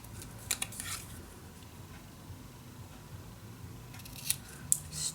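Scissors cutting through designer craft paper for a magic box project, heard as a few quiet, brief snips near the start and end over a soft room hiss.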